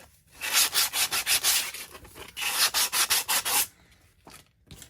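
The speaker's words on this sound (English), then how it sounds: "As you can see, it's kind of rough right there. So that's what I'm trying to sand off." Sanding the rough edge of a laser-cut wooden perpetual calendar piece by hand: two bursts of quick, rhythmic rasping strokes, close and fairly loud, followed by a few softer scrapes.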